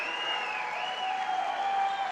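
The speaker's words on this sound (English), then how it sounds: "And the crowd loves the hustle." Wrestling crowd at a 157-pound match, applauding and cheering in a sustained, even roar with a whistle-like tone riding on top, no voices standing out.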